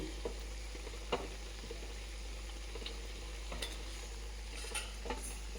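Spices such as turmeric, chilli powder and pepper being stirred into potatoes frying in a pan for a potato poriyal, with a low steady sizzle and scattered light scrapes and taps of the spoon.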